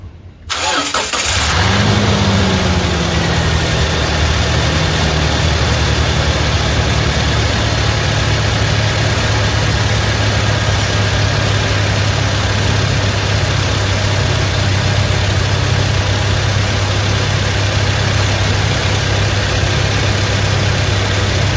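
A Toyota Fortuner with the 2.7 petrol engine cranks and fires after a brief quiet moment, then settles into a loud, steady idle close by that continues unchanged for about twenty seconds.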